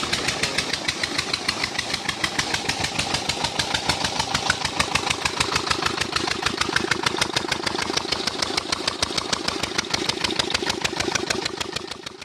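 Tractor engine running steadily on a farm, ready to pull a rotavator, a close, loud diesel chugging with a fast even pulse that holds throughout and eases slightly at the end, with no voices.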